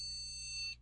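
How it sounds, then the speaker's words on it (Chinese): Steady electronic beeping from an old desktop computer as it powers on, a single sustained high tone lasting under a second over a low mains hum, then cutting off abruptly. "现在这里面有哔哔哔的声音。"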